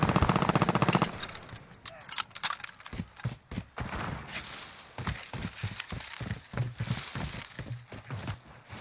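Gunfire in the shooter game Call of Duty: Warzone 2.0, opening with a rapid automatic burst followed by dense, uneven volleys of shots and impacts, loud and continuous, with faint voices underneath.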